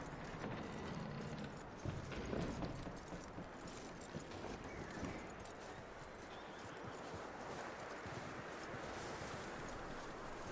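Horse hooves clip-clop steadily in Red Dead Redemption 2, a faint continuous trotting rhythm beneath wind-like noise throughout.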